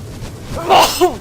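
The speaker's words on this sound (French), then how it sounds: "Laisse-moi éternuer tranquille, le mob." A single sharp sneeze bursts out, close and loud, followed by a short breathy vocal sound.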